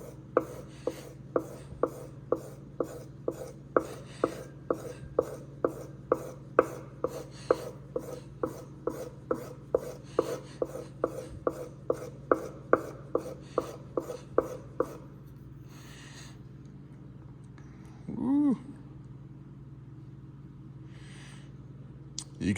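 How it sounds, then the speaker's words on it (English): A chisel with a laminated steel blade drawn in pull strokes along a leather strop, about 30 steady, evenly spaced rasping swipes for roughly fifteen seconds, followed by quiet and a brief low thump. "Now we're going to move to the strop."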